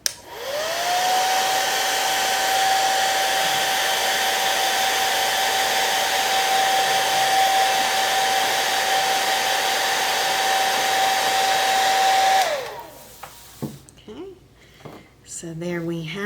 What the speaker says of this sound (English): I'm going to use my blow dryer again.